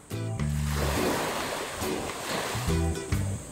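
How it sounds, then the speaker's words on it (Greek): Waves wash and roll in steadily on a Costa Rica beach, a broad rushing surf with low tonal hum underneath, fairly close and continuous. "αυτός ο ήχος των κυμάτων σε φωνάζει να βουτήξεις"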